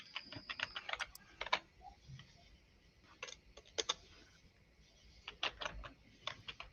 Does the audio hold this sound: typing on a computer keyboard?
yes